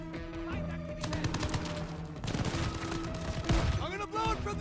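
Rapid bursts of gunfire from a burst-fire weapon in the Call of Duty Vanguard video game, crackling repeatedly amid game sound effects and music, moderately loud.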